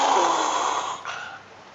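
A man imitates snoring with a loud, raspy, breathy drone that holds for about a second, then tails off into a weaker, rougher rasp.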